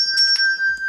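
Notification bell sound effect, a bright sustained electronic chime with two quick struck accents, loud and close, no voices.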